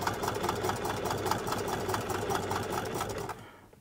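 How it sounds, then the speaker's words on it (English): A classic Jones sewing machine stitching at a steady quick pace, rapid rhythmic clatter of the needle mechanism close up, then running down and stopping near the end. "Well, it's sewing."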